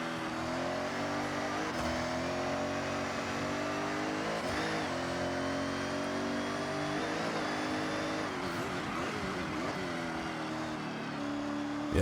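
Ferrari F80 in the Forza Horizon video game, its engine droning steadily and shifting pitch through gear changes and throttle lifts, loud and continuous with no talk over it.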